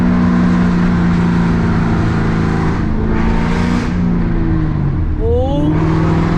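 Straight-piped 2001 Cobra engine revving hard on a downshift, a loud close roaring exhaust whose pitch drops and then swells again, heard alone with no talk.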